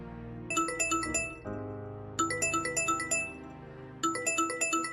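An electronic phone ringtone plays a bright chiming melody in three repeated bursts with short pauses between, over a soft low backing tone.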